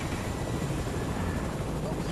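A helicopter in the video game Fortnite makes a loud, steady whirring rotor drone that fills the short clip evenly, with no change in distance.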